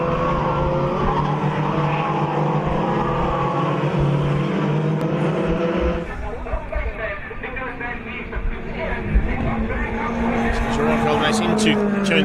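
Race cars on a circuit at a National Extreme Festival round roar past in succession, one engine note falling away before another sweeps through with tire squeal, while a commentator talks over the racing throughout.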